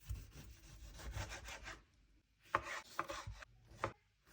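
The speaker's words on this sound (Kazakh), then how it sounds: "Енді қызанақ тураймыз." Tomatoes chopped with a knife on a board for a Kazakh rainbow salad: a quick run of soft rhythmic cuts, a short pause, then a few sharper separate knocks, close and fairly quiet.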